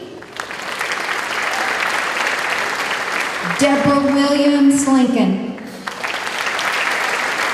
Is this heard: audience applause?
yes